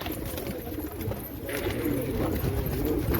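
A racing pigeon coos softly in low, rolling phrases amid a constant noisy background, fairly close but not loud.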